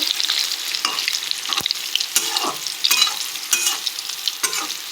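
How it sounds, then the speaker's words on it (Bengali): Brinjal and pointed gourd fry in a pan with an oily, crackling sizzle, close and fairly loud, broken by repeated scraping stirs and spatters, with no talking. "এই যে বেগুন আর পটল যে ভাজতে দিলাম"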